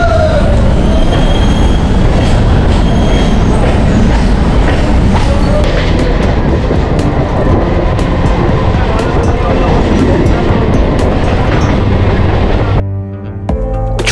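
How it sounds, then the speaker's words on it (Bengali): A Sealdah–Hasnabad local train on a rural Bengal line runs loud and steady, its rumble and clatter constant throughout, dropping away suddenly near the end. "একদম এক্স্যাক্ট টাইমে ছেড়ে দিয়েছে শিয়ালদা হাসনাবাদ লোকাল"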